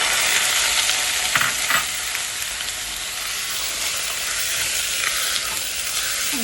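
Chicken sears in a pan with browned onions and ginger-garlic paste for a Kerala-style pepper chicken masala, a loud, steady, close sizzle with a couple of faint scrapes early on.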